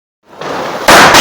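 A firecracker explodes during Diwali celebrations. Near silence gives way to a crackling hiss, then a single loud, sharp burst that holds to the end.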